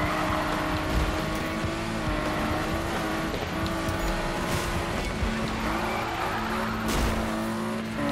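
A grey Nissan Skyline in a racing video game slamming into a rail amid steady engine drone and long tire squeals, loud and continuous throughout.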